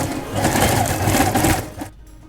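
Straight stitching on a fabric bag from a sewing machine, a continuous close motor whir with rapid needle chatter that runs steadily and then cuts off near the end, leaving faint room noise.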